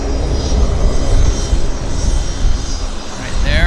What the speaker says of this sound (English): WestJet taxiing out.